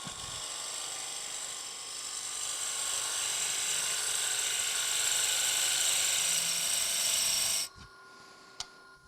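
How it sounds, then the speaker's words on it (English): A wood lathe turning a lidded box while a round nose scraper cuts into it, giving a steady, loud, high hissing whir that stops abruptly near the end, leaving a faint hum and a click. "So once again, back to the round nose scraper. Just gonna take it, just dive into it."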